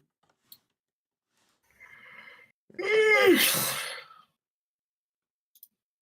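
A single close sneeze with a brief inhale just before it and quiet around it.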